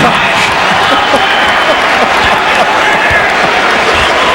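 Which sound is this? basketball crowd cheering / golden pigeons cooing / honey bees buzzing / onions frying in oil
basketball crowd cheering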